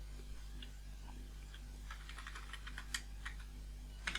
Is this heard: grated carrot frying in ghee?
no